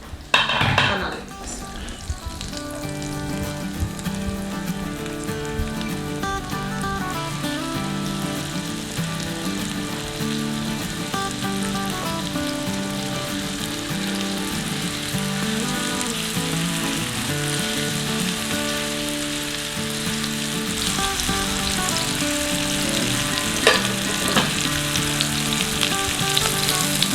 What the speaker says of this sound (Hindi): एकदम स्लो पे रख के शैलो फ्राई करना